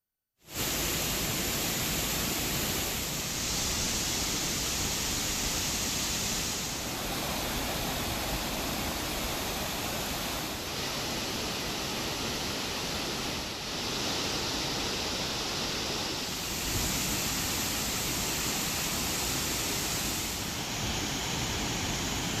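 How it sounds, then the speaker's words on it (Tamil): Kovai Courtallam waterfall in flood roars as a dense, unbroken wall of rushing water that stays loud and steady throughout, with only slight swells in intensity. "கோவை குற்றால அருவியில் தொடர்ந்து வெள்ளம் அதிகரிக்கும்"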